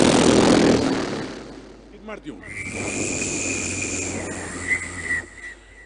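A man imitates a train with his voice as a mimicry demonstration: brief speech, then a sustained, steady whistle-like tone, like a locomotive horn, that holds for several seconds.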